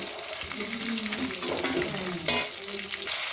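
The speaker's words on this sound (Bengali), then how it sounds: "মাছগুলো ভাজা হয়ে গেছে, মাছগুলো উঠে নেবো।" Pieces of silver carp fish frying in oil in a pan, with a loud, continuous close sizzle and bursts of stirring and scraping as the fish is lifted out.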